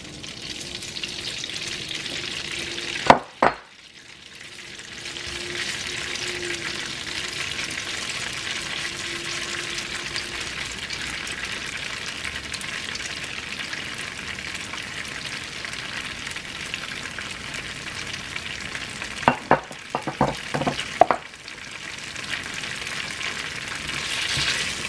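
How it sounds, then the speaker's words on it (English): Tofu fries in a pan for pad thai, a steady broadband sizzle lasting throughout, broken by a few sharp clanks and knocks of a utensil against the pan. "You wanna cook your tofu?"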